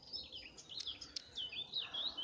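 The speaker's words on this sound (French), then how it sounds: "Écoutez tous les oiseaux là qui sont autour." Small birds chirp and trill outdoors near hawthorn, a series of quick, high, thin calls repeating for about two seconds at moderate distance, fairly quiet over a soft background hiss, with no voices.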